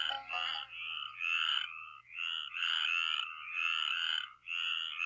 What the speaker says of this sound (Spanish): Cuando las lluvias han refrescado la tierra, se oye el canto de las ranas.